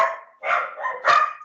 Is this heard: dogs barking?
yes